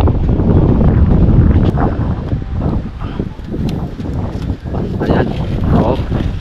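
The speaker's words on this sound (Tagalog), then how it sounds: "Malakas ang hangin." Strong wind gusting across a small boat out on the water, a loud, steady roar of buffeting air that swells and dips throughout without any voices.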